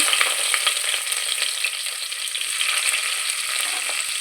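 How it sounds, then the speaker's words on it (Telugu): Onions, cloves and cardamom frying in hot oil, with an even, close, crackling sizzle that holds steady throughout and then cuts off abruptly. "ఆయిల్ వేడిందండి రెండు లవంగాలు చక్క యాలకులు ఉల్లిపాయలు వేసుకుందాం"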